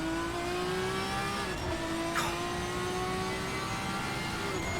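A BMW V12 race car engine in a racing video game, heard as a steady, loud engine tone that holds and shifts in pitch, with a brief sweeping rise partway through.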